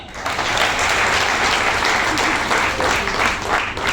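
Loud, continuous applause from a seated audience at a Hindi talk or seminar, a thick wash of many hands clapping at a steady level throughout.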